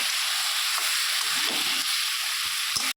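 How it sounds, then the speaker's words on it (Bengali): Lentil fritter curry frying in a pan while it is stirred, a steady loud sizzle running throughout with a few soft scraping strokes near the end. "এবার একটু নেড়ে নেব।"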